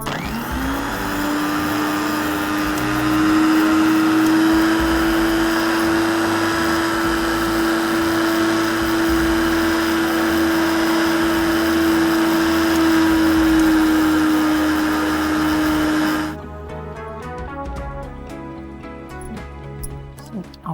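A mixer grinder grinds Chettinad chicken masala in a cooking-show kitchen, a loud sustained motor whine for about sixteen seconds before cutting off, followed by quieter clatter and background sounds.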